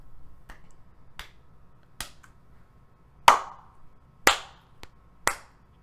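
Several sharp, isolated hand claps spaced irregularly, a few louder ones standing out, over a faint low background hum.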